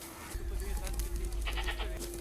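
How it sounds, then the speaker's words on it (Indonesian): A herd of goats bleats while foraging near a few herders, the calls scattered and moderately close over a low rumble of wind or background noise. "Dan itu adalah segerombolan kambing yang tengah mencari makan"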